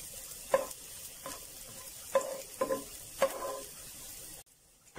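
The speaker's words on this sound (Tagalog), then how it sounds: "igigisa po natin kalahati ng ating bawang" Garlic sautéing in a pan for pork barbecue, a soft sizzle broken by several sharp stirring scrapes and clacks at irregular intervals, then a sudden drop to near silence at the end.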